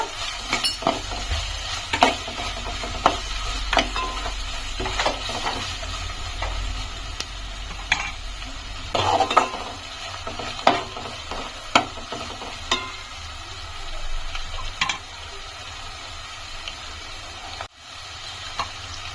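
Onions with ginger-garlic paste fry in a pan for a dried fish tomato curry, giving a steady sizzle broken by repeated scrapes and clinks of stirring.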